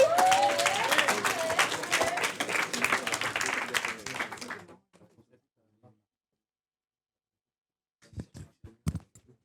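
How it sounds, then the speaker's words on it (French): Audience applause at a startup pitch event, dense clapping that runs for several seconds and then stops abruptly, followed by a pause and a few stray noises. "on l'encourage, on l'applaudit."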